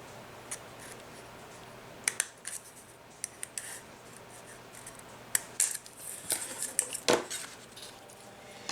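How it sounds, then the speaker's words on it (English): Several sharp, quick snips of scissors cutting, irregularly spaced and fairly close, with a quiet background between them. "Just clean this up with our scissors."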